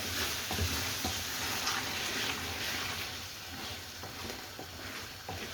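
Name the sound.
lamb and spinach curry sizzling in pan while stirred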